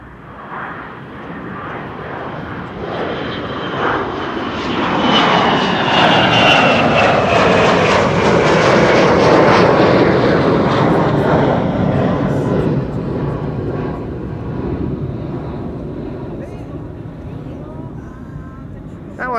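A Gulfstream G700 business jet passes by at Amsterdam Schiphol, its whining jet engine roar swelling to a loud peak midway, then fading away with a shifting pitch.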